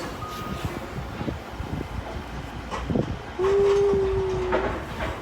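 A train rumbles in over a steady background of platform noise, with a single sustained tonal whistle or horn note about halfway through.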